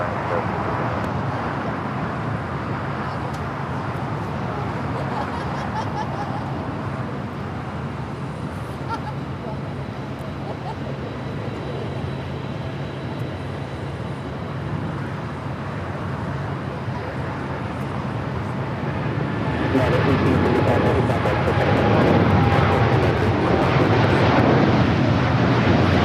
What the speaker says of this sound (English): United Airlines 1855 taking off to Newark on the 787-9 Dreamliner